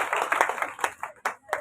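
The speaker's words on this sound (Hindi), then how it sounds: "सबके लिए ताली बजा दो जोरदार" Scattered, uneven hand clapping from an audience at a one-day conference on domestic women workers' day, a handful of distinct claps dwindling over a second or so, with talk mixed in.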